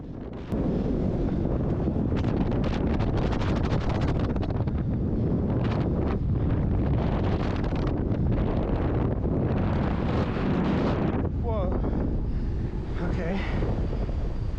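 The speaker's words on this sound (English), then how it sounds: "The wind was still strong, but it wasn't nearly as cold." Strong wind roars and buffets the microphone continuously while climbing a radio tower, loud and gusty throughout, with a voice speaking briefly near the end.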